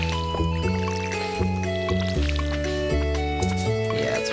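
Watering tulips with a watering can in the Stardew Valley farming game: soft splashing pours under steady, stepped game music, with no talking.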